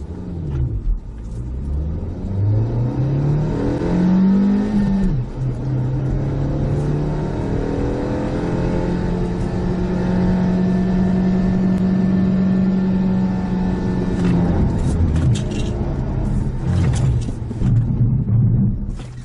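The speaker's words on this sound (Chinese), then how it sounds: "长安第二代逸动麋鹿变线测试第三次" A 2018 Changan Eado second-generation car drives a moose lane change test at close to 77 km/h, its engine droning loud and steady with rising and falling pitch as it revs, plus tire and road rumble throughout.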